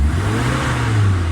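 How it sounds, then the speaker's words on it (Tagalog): A Toyota Revo engine with its idle set too low runs rough and shaky, a loud steady low rumble close by with slight rises in revs. "Ayan, sobrang baba na tuloy ng minor. Nanginginig na yung makina."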